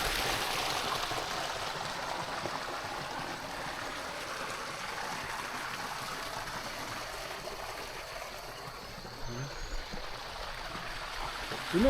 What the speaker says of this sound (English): So this is natural water from the ground. Water is coming from here.